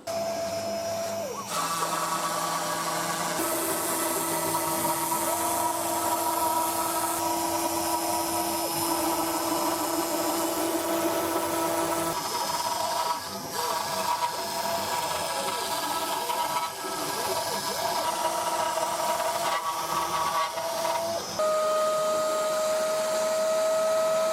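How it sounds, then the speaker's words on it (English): A milling machine cuts a pocket using a regular drill bit in place of an end mill, its motor whining steadily at a loud, constant level, with tone shifts and strained, gritty cutting noise as the bit works the material. "this is the result that you get from using a regular drill instead of a proper end mill. It sounded a little bit strained at some points"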